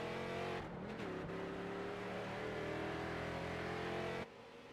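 A street stock race car runs loud and close out on the track, its engine holding a steady roar with a brief shift in pitch near the start before the sound cuts off abruptly.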